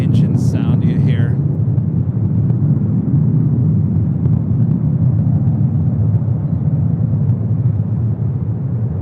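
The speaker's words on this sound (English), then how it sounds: "It's Delta 737 taking off on the north side." A Delta Boeing 737 takes off from the north side of LAX, its jet engines giving a loud, sustained low roar that holds steady throughout, with a brief voice near the start.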